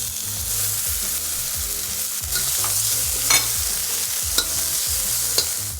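Garlic and bell peppers sizzle steadily in a hot wok on high heat, with a spatula scraping and tossing in a regular rhythm and a few sharp metallic clinks, close and without talk.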